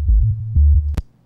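Raw remix bass line without plugins: a couple of deep, plain bass notes pulse loudly, ending with a short sharp click before fading out.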